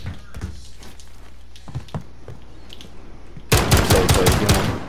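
Pistol shots in a shooter video game, a scattering of sharp gunshots early on, then a loud dense burst of rapid fire in the final second and a half.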